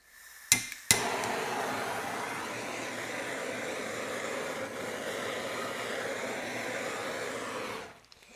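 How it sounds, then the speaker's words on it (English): A blowtorch roars in a steady, even hiss, popping bubbles on a freshly poured epoxy resin cutting board; two sharp clicks precede it as it ignites, and it cuts off at the end. "So I'm going to pop those with a blowtorch."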